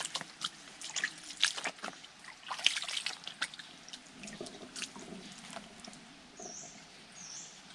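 Small, low-flowing creek in Thai forest, water trickling and pattering softly at a distance, with faint scattered drips and light natural ambience; no talking.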